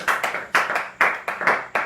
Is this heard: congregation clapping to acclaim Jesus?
yes